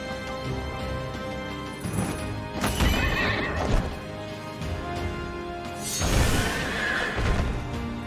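In the video game Child of Light, a horse gives two loud, shrill whinnies a few seconds apart, with clip-clopping hooves and galloping running underneath.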